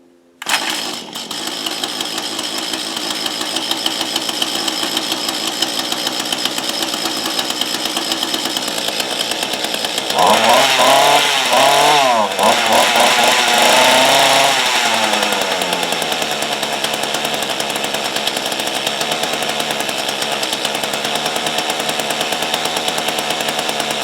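A Mantis rototiller's two-stroke engine catches almost at once with the choke on and runs loud and continuous, with a raspy buzzing drone that revs up harder for a few seconds midway before settling back.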